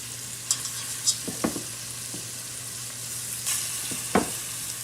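Beef ribs go into a frying pan already holding sausages for an Italian Napolitana ragù, giving a quiet, steady sizzle with a few sharp clicks and clatters from the pan.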